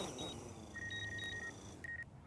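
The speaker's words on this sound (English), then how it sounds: "So now it's just going to do an auto landing. Gives me some beeps." A series of high electronic beeps from a DJI Phantom 4 drone during auto landing, several evenly spaced short tones then a final pair, over a steady low background hum outdoors.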